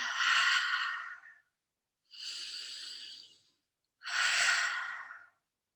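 Three long, deep breaths drawn close to the ear, each a breathy rush lasting over a second, separated by brief silences.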